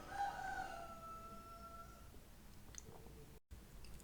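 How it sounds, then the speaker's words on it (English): A rooster crows once at a distance, a drawn-out call that fades into quiet background, followed by a few faint scattered sounds. "A rooster is crowing."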